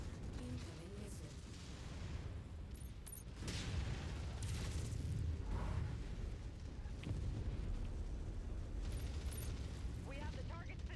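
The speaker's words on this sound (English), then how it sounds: "Incoming missile." Incoming missile strikes in the mech combat game MechWarrior 5, heard as heavy booming explosions and rumbling impacts mixed with mechanical clanks and game sounds, with voice chatter between the blasts.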